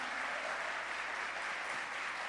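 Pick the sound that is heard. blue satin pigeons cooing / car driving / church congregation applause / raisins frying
church congregation applause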